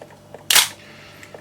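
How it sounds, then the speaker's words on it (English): A Pentax K1000 film camera with a rubberized cloth shutter fires once, giving a single sharp, close mechanical click in an otherwise quiet room. "And the shutter seems to be working quite well."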